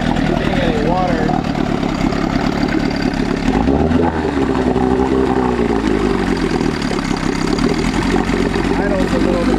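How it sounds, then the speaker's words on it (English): A small outboard motor idles low with a steady, slightly uneven engine drone that briefly surges and settles, while people talk over it. "It was idling kind of low"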